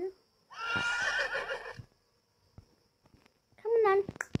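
A horse in the Roblox game neighs twice, a long whinny up front and a shorter one near the end, with soft clip-clops and brief sounds between.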